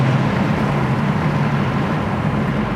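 A 1970 Camaro Z28 with its transmission going into gear, the engine's steady low rumble idling close by throughout with no talk.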